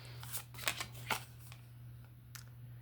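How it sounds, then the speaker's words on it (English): Tarot cards being shuffled and drawn, a few soft riffling and sliding bursts spaced out over a steady low hum, close and fairly quiet. "Let me get 3 more cards here."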